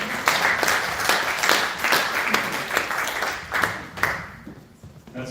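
An audience at a cancer screening and prevention forum breaks into applause, a dense burst of clapping that swells in waves, then thins and fades out.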